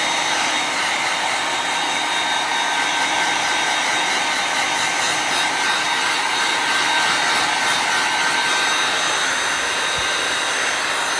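Hair dryer blowing on a craft project to speed drying, a loud, steady whooshing roar that runs unbroken throughout.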